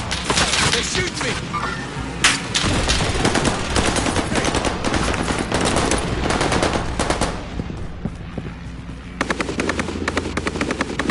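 Dense bursts of automatic gunfire and single shots rattle almost nonstop through a shooter video game match, loud and close, with brief gaps near the end.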